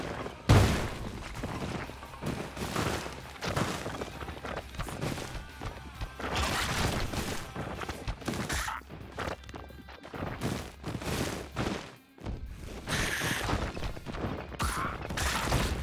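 Dense bursts of bomb blasts and crashing debris erupt in the Spelunky 2 video game, loud and close, with clattering game effects filling the gaps between explosions.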